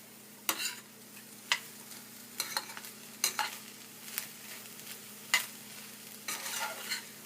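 Chickpeas (chana) cooking with onions and green onions in a pan, giving a steady low sizzle broken by sharp scraping stirs every second or so, fairly close, with no voices.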